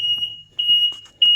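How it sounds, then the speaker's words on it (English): Reverse-gear warning beeper on a 1990 Subaru Sambar, loud piercing tone repeating in steady pulses about every half second, with faint low rumble between beeps. "If you put it in the rear gear, it's gonna start making funny noises"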